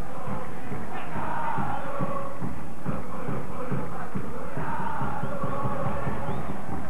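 Football stadium crowd at a River Plate match against Newell's Old Boys, a restless, impatient roar and murmur filling the stands, steady and dense throughout with scattered shouts rising above the mass.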